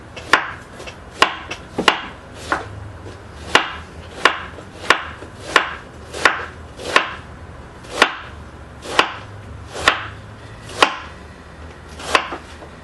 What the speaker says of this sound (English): for the cabbage, you want to slice it as thin as possible